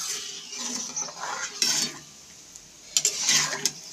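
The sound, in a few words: boiled lentils (dal) being added to the pan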